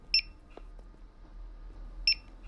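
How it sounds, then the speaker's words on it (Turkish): Two short electronic beeps from a video game ghost detector, spaced about two seconds apart, clear and bright over a quiet low hum. "Şu anda bip bip sesleri gelmeye başladı."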